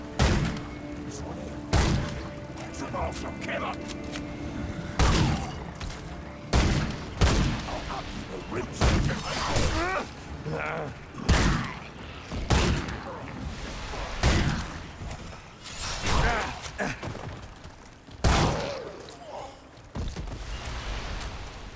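Gunfire in the shooter game Remnant II, loud bursts of shots and booming impacts going off every couple of seconds against a rumbling game background, with occasional talk in between.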